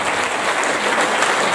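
Steady applause of encouragement from an audience at an Italian Alpini association anniversary evening, dense and continuous throughout with no voices over it.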